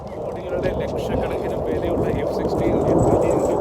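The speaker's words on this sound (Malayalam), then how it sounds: "യുദ്ധ വിമാനങ്ങൾ ഇവിടെ ആറാടുകയാണ് വളരെ താഴ്ന്ന" Fighter jets roar steadily overhead at low altitude in a deep, loud rumble while a person speaks over the noise.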